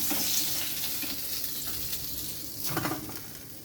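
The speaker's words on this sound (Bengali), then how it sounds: "বাকি মাছটাও আমি ভেজে নিচ্ছি" Fish frying in hot oil, a close, steady crackling sizzle throughout with a brief louder burst of spitting near the end, no speech.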